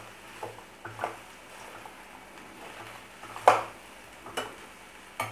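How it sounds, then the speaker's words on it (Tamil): Bitter gourd sautéing in oil makes a quiet, low sizzle, with occasional soft scrapes and taps of a spatula stirring the pan. "எண்ணெய் விட்டு இதை நல்லா வதக்கலாம்"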